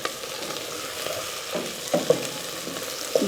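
Chopped tomatoes added to a pan and fried while making creamy chicken, a steady close sizzle with a few louder stirring scrapes and clacks toward the end, no voices.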